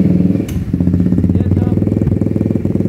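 An ATV 350 engine runs after starting, a steady rapid rumbling idle with an uneven, misfiring beat, loud and close, with brief talk over it.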